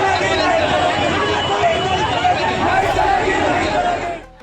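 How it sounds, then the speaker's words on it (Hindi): A large, dense crowd of nursing students protesting in Patna, heard as continuous loud chatter and shouting from many voices that stays steady and then drops off at the end. "बहुत जबरदस्त भीड़ थी।"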